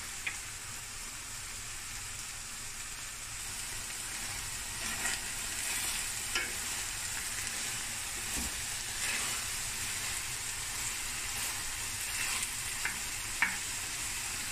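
Minced meat fries in a pot with a soft, steady sizzle and occasional faint stirring scrapes, quiet and continuous throughout with no talking.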